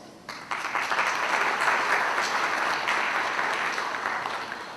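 Guests at a wedding reception break into applause that begins abruptly and swells into steady, dense clapping from a sizeable crowd, easing slightly toward the end.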